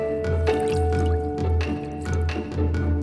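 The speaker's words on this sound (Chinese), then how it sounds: "用清水多次揉洗，" Chopped pickled cabbage being kneaded and rinsed by hand in water, giving repeated wet squishing and sloshing bursts in a steady rhythm over a low constant hum.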